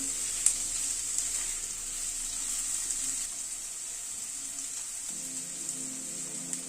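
Onion frying in a pan while being stirred, a soft continuous sizzle with a couple of faint utensil taps, fairly quiet throughout.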